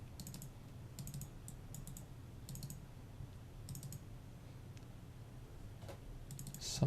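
Quick computer input clicks, keyboard-like taps in short clustered bursts over a low steady room hum, fairly faint and close, with no talking.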